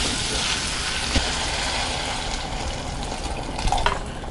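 Water pours steadily into a pan of sambar holding carrots, drumsticks and salt, making a continuous close, loud splashing rush with a couple of small clinks and no talking.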